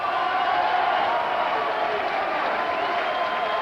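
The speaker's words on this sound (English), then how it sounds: "Now the crowd here in the Wembley Conference Centre on their feet to acknowledge 2 great warriors." Boxing crowd at the Wembley Conference Centre during a British Championship bout, a steady roaring wash of cheering and applause sustained loudly throughout with no break.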